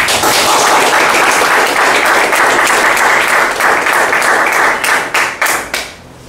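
An audience at a Toastmasters club meeting applauds to welcome the general evaluator: loud, dense clapping sustained for several seconds, then thinning to a few last claps before stopping.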